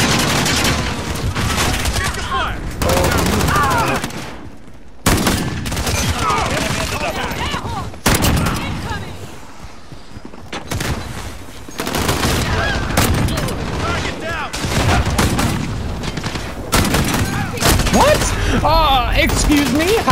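JAK-12 shotgun blasts in Call of Duty, firing in loud bursts through dense in-game combat noise, with a player talking excitedly over the shots.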